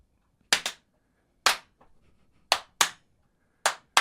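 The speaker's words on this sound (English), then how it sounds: "let's get a little clap in" Sharp hand claps for syncing audio and camera, seven distinct close, loud cracks in uneven pairs and singles with silence between, a brief faint murmur in the middle.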